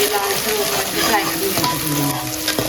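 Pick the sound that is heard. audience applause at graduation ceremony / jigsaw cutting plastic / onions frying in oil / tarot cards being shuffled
onions frying in oil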